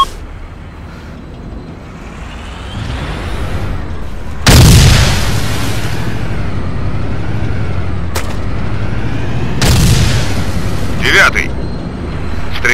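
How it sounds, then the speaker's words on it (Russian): Mortar rounds shell the area in the Arma 2 video game, landing as a few heavy booms separated by a low, sustained rumble, with voices talking over the bombardment. "Сэр, похоже, эту зону обстреливают из минометов."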